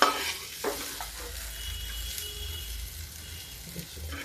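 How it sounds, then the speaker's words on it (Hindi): Okra is taken out of a frying pan and oil is poured into the same pan, giving a soft sizzle and faint scraping and stirring sounds, fairly quiet and close, with no talk. "ये देखिए अब हम भिंडी निकाल देते हैं इससे। इसी पैन में डालेंगे तेल।"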